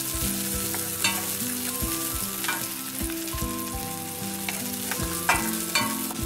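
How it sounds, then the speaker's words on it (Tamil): Garlic sizzles steadily in a pan for Chettinad-style veg Manchurian, with repeated stirring strokes breaking through the frying hiss and soft tonal music playing underneath; no one speaks. "இது பூண்டும் வந்து நமக்கு நல்லா வதங்கணும்."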